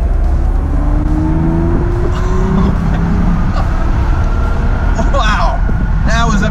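A Mercedes SL600 with a V12 engine, long stored and bought broken, pulls smoothly as it accelerates, a steady low engine drone running through the whole stretch under road noise and voices.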